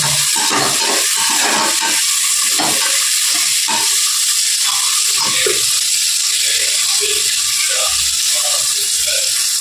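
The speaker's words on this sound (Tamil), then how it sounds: "கொஞ்சம் நேரம் நல்லா வதக்கிக்கணும்" Ghee rice ingredients, including green chillies, sauté loudly in a pan, with a constant hissing sizzle and irregular scraping and rattling from stirring, close and dense throughout.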